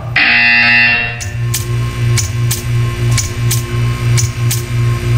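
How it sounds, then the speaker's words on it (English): A harsh electronic buzzer in Portal 2 blares for about a second, then a low hum continues with a series of regular faint clicks. "When you hear the buzzer, stare at the art."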